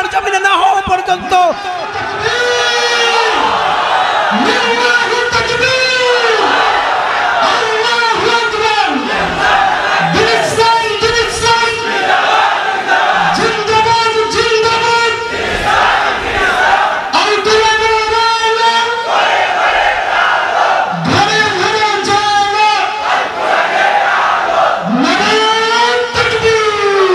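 A large crowd at an Islamic sermon gathering stands and chants justice slogans in loud call-and-response waves, a lead voice alternating with the massed voices, repeating steadily and forcefully throughout.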